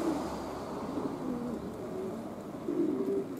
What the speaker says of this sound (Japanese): 旧車の周り飛んでいるのは遠征に行かなかったハトたちです